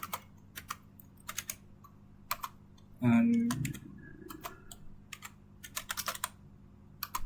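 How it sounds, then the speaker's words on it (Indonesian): Computer keyboard keys tapped in short irregular bursts while commands are entered into a network switch's command-line interface, close and crisp, with a brief louder non-key noise near the middle and quiet talk in the background. "Kita bisa ketikkan yaitu show interface"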